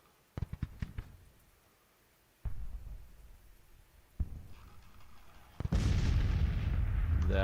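Artillery booms in a Grand Tactician battle, with a few sharp reports early, two heavier blasts later and a loud sustained barrage of rumbling fire at the end, with no talking.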